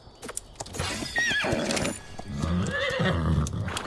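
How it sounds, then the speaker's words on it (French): Horse in the video game Ark: Aberration giving a loud, drawn-out neigh and whinny with rising and falling pitch, up close, with clip-clop hooves and game noise beneath. "Petit cheval."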